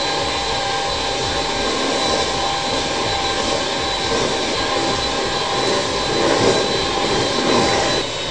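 An electric mixer whips egg yolks, whites and cake emulsion for a roll cake batter, producing a loud, steady motor whir and roar that continues unbroken, close to the mic, with no speech.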